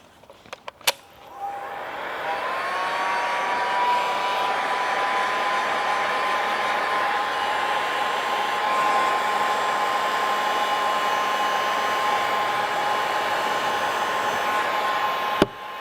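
A heat gun blows steadily while warming a vinyl retro hockey stripe on a Ford Bronco Raptor hood, a continuous close whooshing hum with a faint tone that starts after a brief click and runs unbroken to the end.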